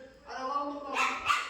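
A pet dog at home gives a few short, yelping barks close by, two sharp bursts near the end after a whining tone, with people talking around it.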